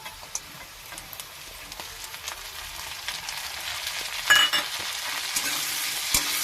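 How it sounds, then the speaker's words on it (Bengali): Cashews and raisins fry with fried potatoes in a pan for chire polao, a steady hissing sizzle that swells louder toward the end, with occasional ticks and clinks of stirring. "আমার আলু ভাজা হয়ে গেছে এবারেতে আমি একটু কাজু কিশমিশ দিয়ে দিচ্ছি"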